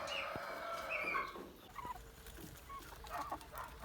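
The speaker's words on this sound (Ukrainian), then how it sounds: "тут у нас старша група курчат джерзійських гігантів" Jersey Giant chickens, an older group of young birds in a closed pen, cluck and call in short bursts over a steady farmyard background, close by and moderately loud with no talking.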